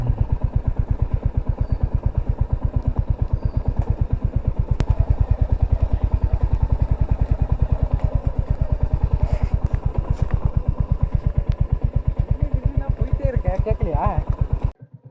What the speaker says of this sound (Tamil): இப்போ இந்த ரோட்டில் நம்ம வண்டி இறக்குறோங்க.